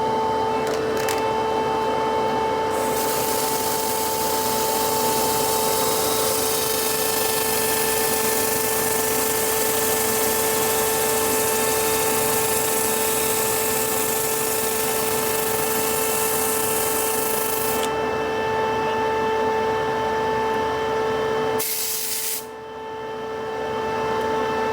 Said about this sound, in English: We're going to sand those down and finish off the bowl.